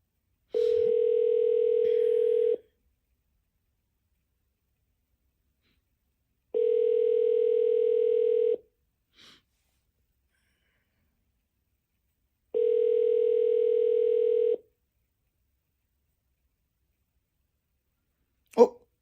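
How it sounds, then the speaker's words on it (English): A telephone call rings out with no answer: three long, even ringback tones about two seconds each, separated by roughly four seconds of silence, clear and steady. "It's ringing. She's not picking."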